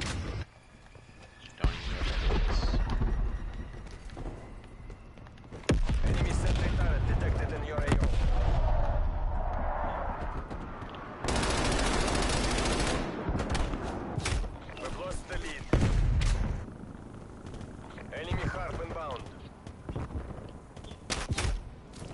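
Gunfire rattles in the video game Call of Duty Cold War, with bursts of automatic shots and heavy booms in a busy multiplayer match, loud and repeated, with a player talking over it.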